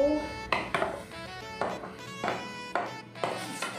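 Mushrooms and other ingredients are stirred in a pan while cooking creamy sipo, with a utensil scraping and clinking against the pan in about six rhythmic strokes, close and fairly quiet.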